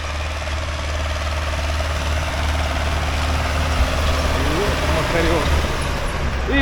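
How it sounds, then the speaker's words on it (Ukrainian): An MTZ tractor pulls a GENERAL disc harrow across a dusty field in Odesa region, its engine a steady low drone throughout, with voices talking over it. "трактор лупе, пиль столбом капітально стоїть"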